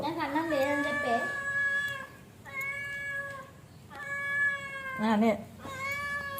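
A cat meows several times up close, in long, drawn-out cries separated by short pauses.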